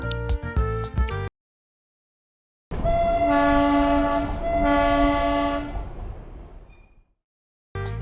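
The Darjeeling to Kurseong toy train sounds its horn in two long, strong tooting blasts that fade out, with clattering running noise before and after brief gaps of silence.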